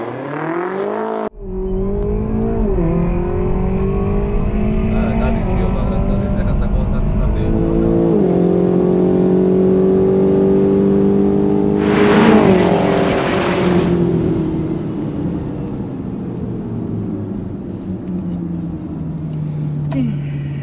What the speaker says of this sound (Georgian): ეხლა ვეცდები რომ ჩვეულებრივად დავზრა ტორმოზის გარეშე.